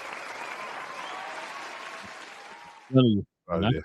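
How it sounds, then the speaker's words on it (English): A short burst of applause sound effect plays beneath a sports commentary rant, fading out before a voice cuts in with quick speech. "Richard, you get the applause as well, man"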